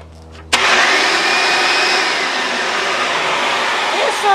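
A Hoover Sprint vacuum cleaner switches on after a brief quiet moment, then runs with a loud, steady motor whine and airflow roar, close by.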